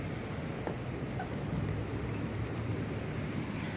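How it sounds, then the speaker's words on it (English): Rain falls steadily outdoors around a 2008 Volvo C30, a soft, even hiss of drops at a low, constant level with no talk. "I apologize for the rain"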